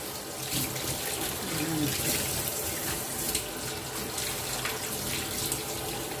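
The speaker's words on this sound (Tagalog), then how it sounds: "Ipadaan lang sa tap water" Tap water runs steadily over cooked noodles being rinsed for pancit palabok, a continuous moderate splashing that holds throughout, with faint voice in the background.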